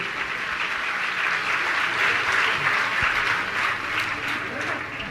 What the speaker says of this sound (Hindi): ताली बजा के सम्मान करें।